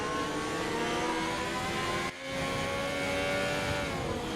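In the F1 2020 video game, race cars run down the Camel Straight at the Belgian Grand Prix, a constant high engine drone holding steady with a brief dip midway, loud and alone.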